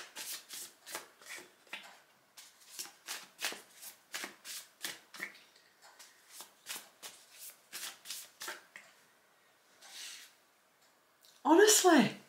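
Tarot cards being shuffled by hand in a quick, steady run of riffling bursts, fairly close and soft, pausing briefly near the end.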